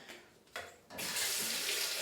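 Lukewarm tap water runs from a faucet into a nasal rinse bottle, starting softly and then rising to a steady, loud, hissing stream with no talking.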